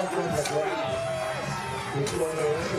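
A large crowd at the CrossFit Games cheers and shouts for a lifter during a barbell event, a continuous dense roar with whoops rising over it, while a commentator talks on top.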